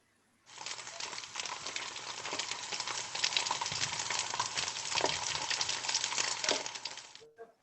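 Food frying in a pan gives a steady, dense crackling sizzle that starts abruptly and carries on evenly for several seconds, with occasional louder pops and no voices.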